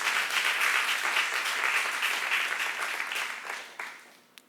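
A church youth group audience breaks into sustained applause, a dense wash of many hands clapping that holds steady, then thins out and trails off toward the end with a few last claps.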